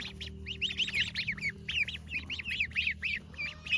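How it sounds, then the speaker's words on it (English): Ducks on a farm quack in rapid, repeated bursts, several calls in a row, fairly close over a low background hum. "That duck is just huge."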